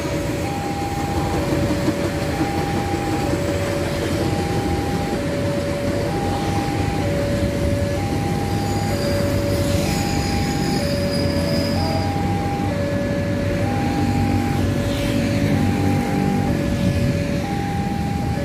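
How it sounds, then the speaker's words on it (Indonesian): A commuter train rumbles past steadily beside the Ciliwung River in Jakarta, between Manggarai and Sudirman stations, with a repeating two-tone signal chiming over the broad, continuous mechanical roar. "kita bisa melihat kereta api yang melintas secara jelas dari Stasiun Manggarai ke Stasiun Sudirman"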